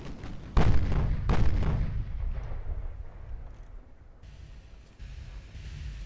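Warship stern turrets fire artillery salvos in the naval strategy game Ultimate Admiral: Dreadnoughts, two loud, deep booms a moment apart that roll off into a rumbling tail, with quieter battle noise after them.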